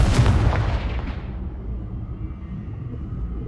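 A Confringo explosive spell from Hogwarts Legacy goes off as a deep booming blast that rolls away into a fading rumble, loud and close, with no voice over it.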